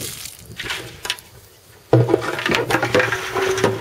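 Water gushes from an air lift well pump into a jug, a loud sudden rush starting midway and continuing steadily after a quieter stretch.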